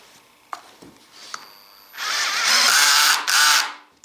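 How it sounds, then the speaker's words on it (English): Makita CXT FD06Z drill driver driving screws into wood, a couple of light knocks first, then a loud, close whirring run of about two seconds with a brief dip before finishing. "See if we can get these screws to go through."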